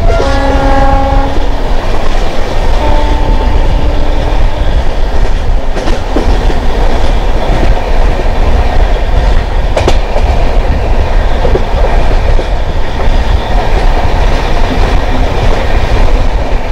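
The Mangala Lakshadweep Express passes loud and close, a continuous roar of wheels and carriages clattering on rails, with a few horn blasts near the start.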